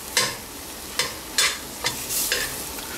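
Mushrooms being stirred and sautéed in a pan for cream of mushroom soup, with a spoon scraping in several distinct strokes over a soft sizzle, close and fairly loud, no talking.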